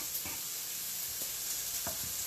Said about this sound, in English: while my bacon is frying up in the background